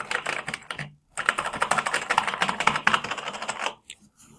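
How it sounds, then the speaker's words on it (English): Keys clatter on the keyboard of a 1980 ADDS serial terminal, a dense run of quick, close, crisp clicks with a short pause early on and a few isolated presses at the end. "we get a cursor and we can hit the keys"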